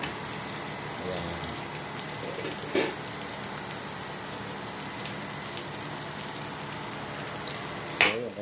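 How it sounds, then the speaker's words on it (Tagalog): Onion and garlic sizzle steadily in hot oil in a pan for lugaw, a continuous crackling fry with a couple of brief stirring clunks of a utensil. "kailangan lang po natin haluin para magisa po yung sibuyas"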